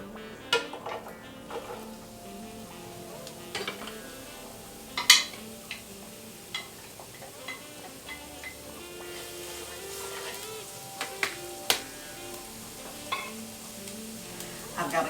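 Chopped garlic and red onions frying in a skillet, a soft continuous sizzle close by, broken by occasional clinks and scrapes of a utensil stirring against the pan.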